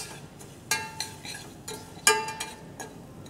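A spoon clinks and scrapes against a pan while stirring sugar and water to caramelize it for banana toffee, a few sharp metallic taps spaced apart over a quiet hiss, with no talk.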